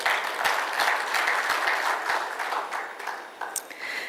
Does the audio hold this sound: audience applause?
yes